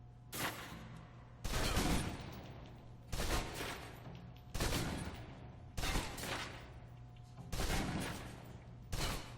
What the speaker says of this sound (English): Now, let's move on to the submachine gun. Hate this one. Now let's empty the clip.